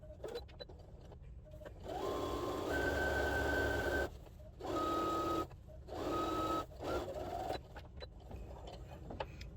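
A sewing machine sews a pocket casing in several short whirring bursts separated by pauses, fairly faint and close, with small clicks of fabric handling between runs.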